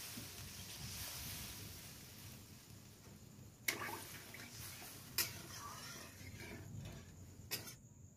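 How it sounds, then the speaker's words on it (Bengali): Water poured into a cooking pot of rohu fish curry with potatoes gives a faint, steady rushing wash, broken by a few sharp clinks against the pot. "দিয়ে আমি এবার জল দিয়ে দিলাম, পরিমাণ মতো আমি জল দিয়ে দেবো।"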